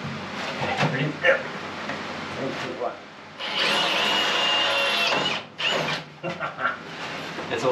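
A power drill grinds hard through stainless steel galley wall panel in long strained bursts, with people talking intermittently between and over the drilling.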